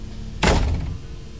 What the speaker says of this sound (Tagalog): At sinara ko ang pinto.